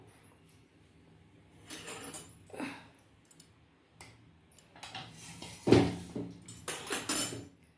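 A metal spoon clinks and taps against boiled taro root (arbi) in a cooking pot, producing several short, close clinks and scrapes in scattered bursts, with no speech.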